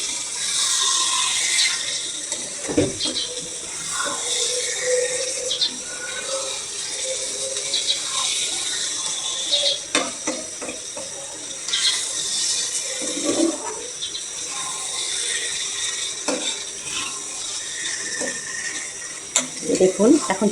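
Water from washed chicken pours and drains steadily in a kitchen, a continuous splashing rush like a running tap, fairly close, with a few clatters along the way and no speech.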